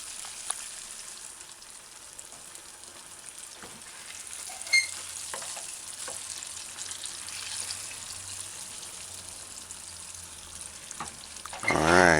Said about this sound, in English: Don't turn the stove up, you want to slow fry